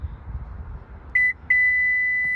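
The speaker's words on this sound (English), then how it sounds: "It beeps, great" Key fob confirmation beeps for a Subaru power rear gate: a short electronic tone, a brief gap, then a longer sustained beep, close and clear over quiet background noise.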